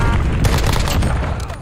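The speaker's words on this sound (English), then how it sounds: "incoming grenade." A grenade explodes in a live-streamed shooter game: a loud, dense burst of blast and gunfire noise fills the short moment, close and harsh, with no voice over it.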